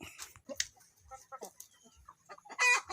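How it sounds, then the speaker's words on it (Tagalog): Chickens on a farm cluck in short, scattered bursts nearby, with a louder squawk toward the end; no talking. "Nagsimula sa pagpapakain ng mga manok."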